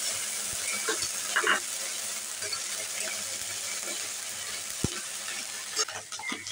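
Bay leaves, whole cumin, dried red chillies and ginger paste fry in oil in a pan, a steady hissing sizzle with faint scraping clicks of stirring and a sharp knock near the end.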